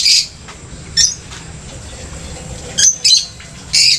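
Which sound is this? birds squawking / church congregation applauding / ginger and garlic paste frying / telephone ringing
birds squawking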